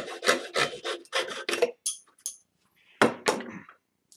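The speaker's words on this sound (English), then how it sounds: "I'm just going to cut this with a hacksaw because the material is relatively thin." Hacksaw cutting thin axle stock for a small cart, heard as a few close, rasping back-and-forth strokes in short bursts with a pause before a final pair of strokes.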